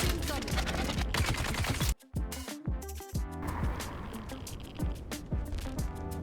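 Dense bursts of gunfire batter a personal shield in the video game Dune: Awakening, with rapid crackling volleys and heavy impacts, a short break, then more sharp hits over a busy game soundscape.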